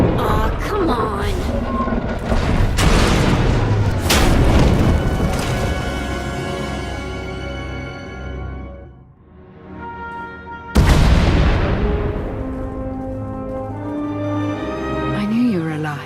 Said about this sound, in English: We heard explosions.